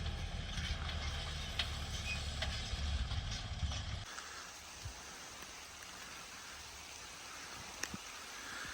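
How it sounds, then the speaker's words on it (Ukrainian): Light rain begins falling over a farm field, a faint soft patter. A low rumble sits under it at first, then drops away, leaving only the quiet rain. "Ще й дощик пішов."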